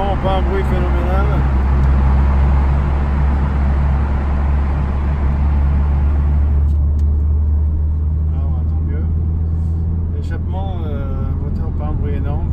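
A stock Mitsubishi Lancer Evo 7 with an unmodified exhaust drones steadily from inside while driving, a loud low engine hum and road noise running throughout under someone talking.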